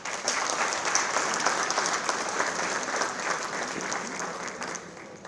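Dense, steady applause from a mushaira audience greeting a poet from Doha, Qatar, loud and continuous throughout with no talk over it.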